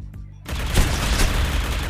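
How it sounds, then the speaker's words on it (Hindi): Gunfire and explosions in the mobile shooter Critical Ops during a defuse-mode multiplayer match: a quiet moment breaks into a dense, loud barrage of shots and blasts that continues without letup. "बम और आतिशबाजी चल रही है यहां पे।"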